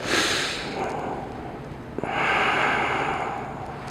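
Deep inhales during a shoulder mobility exercise, two long close breaths of airy rushing with a brief click between them, no talking.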